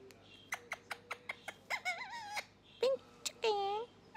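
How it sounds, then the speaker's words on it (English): Rapid series of sharp chirps followed by warbling, whistly calls from small birds, fairly close and bright against a quiet room. "You can hear the budgies."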